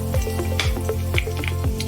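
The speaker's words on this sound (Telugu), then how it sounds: "పోపు ఎర్రగా అయిన తర్వాత ఇదిగోండి ఎండుమిరపకాయ వేస్తున్నాను" Dried red chillies sizzle in hot mustard-seed tempering oil for mango pickle, a steady close crackle with sharp popping spatters at irregular intervals and faint metallic clinks.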